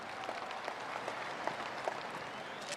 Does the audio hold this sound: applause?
yes